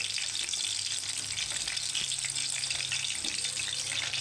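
An egg fries in ghee over a low flame, giving a steady, even sizzle that continues without pause throughout, close and moderately loud.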